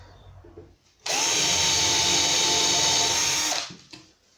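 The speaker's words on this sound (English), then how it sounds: "I'll get a couple of screws in this, just hold it in place." A power drill drives screws into a kitchen unit during kitchen fitting, one steady whirring burst of about two and a half seconds, close and loud, with quiet handling noise before and after.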